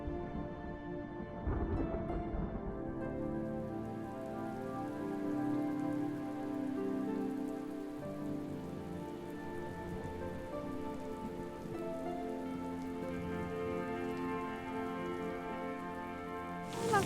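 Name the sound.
rain falling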